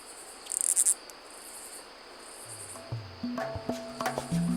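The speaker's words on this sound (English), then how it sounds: "This grasshopper produces a unique sound early in the night." A grasshopper calls early in the night in a natural setting, with a short burst of rapid, high chirping pulses, then quiet background hiss and scattered faint low calls and clicks.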